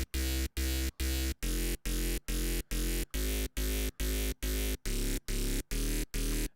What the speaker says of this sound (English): on its own, this little bass sounds like this.